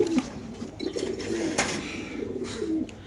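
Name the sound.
pigeon cooing, black racer pigeon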